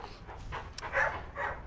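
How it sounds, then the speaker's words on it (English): A dog on a beach gives short barks and whimpering, panting bursts, a few moderately loud yelps spread across a brief stretch in the background. "there's a dog barking and digging in the background"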